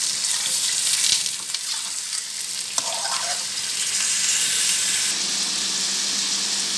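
Meat sizzling steadily in hot oil in a karahi, a dense continuous frying hiss close up with a brief clink partway through, no voices.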